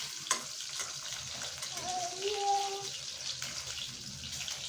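Fish fry in a pan with a soft, steady sizzle, close and fairly quiet, as a few faint clinks and wavering tones pass over it.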